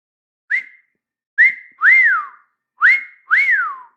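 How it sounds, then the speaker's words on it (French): A man whistles a short tune of five clear tones in two groups, each rising and then sliding down in pitch, loud and close with silence between the notes and no talking. "Je siffle bien."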